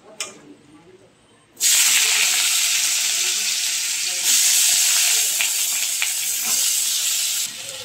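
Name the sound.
diced potatoes frying in hot oil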